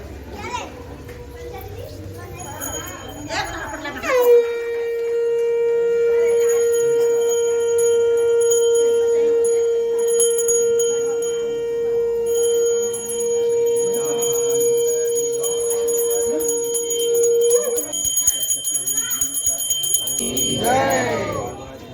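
A bell rings in one long sustained tone over several seconds, while voices and children chatter in the background.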